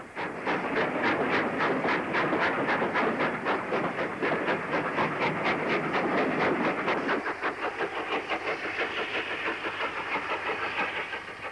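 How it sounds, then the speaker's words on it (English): A steam locomotive hauling a tour train chuffs rhythmically and loudly, with fast regular exhaust beats and a steady background hiss and rumble as it pulls away over a curving 21-arch viaduct. "departs for Burnley over the S-shaped 21-arch viaduct east of the station"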